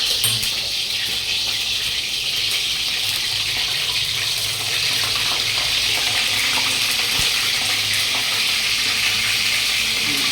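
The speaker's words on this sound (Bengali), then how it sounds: "মাছটাকে ফ্রাই করে বার করি।" Fish fries in a pan with a loud, steady hiss and sizzle that runs unbroken throughout, close and dense, with no talk.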